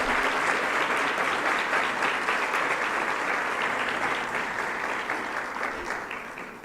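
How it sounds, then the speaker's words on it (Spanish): Audience at an Ibero-American health law congress, held in the old Inquisition tribunal palace, applauds the minister with a full, steady round of clapping that tapers off slightly toward the end. "Démosle un aplauso, por favor"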